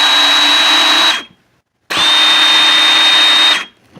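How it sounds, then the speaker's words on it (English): Motor of an 18-volt Ryobi cordless bolt cutter whirring in two steady bursts, about a second and then under two seconds long, with a short silent gap between them. Close, loud and even in pitch, with a clear stop after each run. "This is on my Ryobi bolt cutters, 18 volt"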